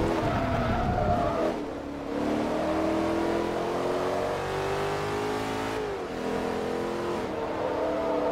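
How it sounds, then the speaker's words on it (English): An Audi R8 with a V8 engine races in Forza Motorsport 3 at Suzuka Circuit, revving hard through gear changes with brief tire squeal, loud and continuous. "I believe this is the V8 version of the R8 rather than the V10. And it sounds so much better."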